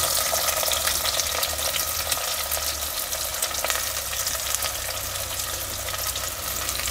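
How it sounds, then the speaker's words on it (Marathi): Sliced onion fries in oil in a clay pot over a wood-fired stove, a dense, steady sizzle filling the whole stretch at close range, with faint stirring and no speech. "आता आपण कांदा आहे ना पूर्ण असं लालसर होईपर्यंत आपल्याला कांदा आहे ना हे तेलामध्ये परतून घ्यायचं"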